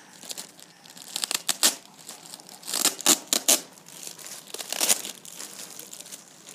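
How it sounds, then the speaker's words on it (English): Packing tape peeled off a package holding a poo emoji pillow, giving bursts of crinkly, tearing plastic noise in uneven pulls close by, with no talking. "And so you just need to peel off the tape right here."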